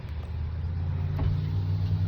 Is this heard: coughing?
no